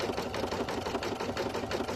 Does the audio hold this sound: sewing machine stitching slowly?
yes